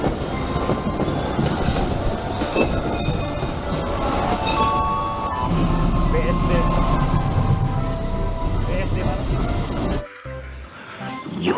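A CC203 diesel locomotive passes close by, a loud, steady rumble of engine and rolling wheels with metallic clatter and squeal that cuts off abruptly near the end, under a speaking voice.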